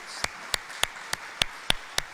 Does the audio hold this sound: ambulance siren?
no